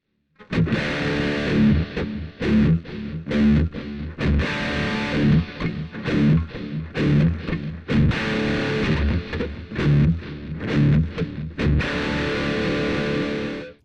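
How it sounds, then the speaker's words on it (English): Distorted electric guitar through a Korg PX2/PX4 playing a choppy, rhythmic riff with sustained overdriven chords and a roomy reverb tail, loud and continuous, with no voices. "this is a cool overdriven sound"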